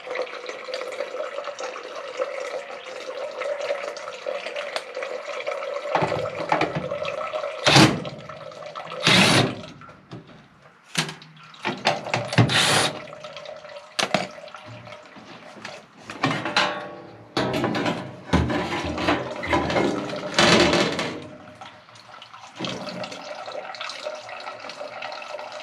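Water gushes and splashes out of a plugged Carrier furnace condensate trap in irregular bursts, with pauses between loud pours and trickles up close.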